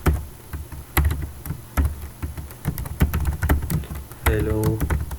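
Typing on a computer keyboard, irregular clusters of sharp key clicks at close range, with a brief burst of voiced sound near the end.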